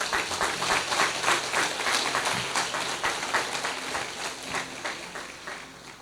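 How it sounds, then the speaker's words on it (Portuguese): A church congregation applauds during a Sunday service, steady loud clapping from many hands that fills the space and tapers slightly toward the end, with faint voices beneath. "Vamos aplaudi-lo."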